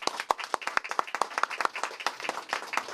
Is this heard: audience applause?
yes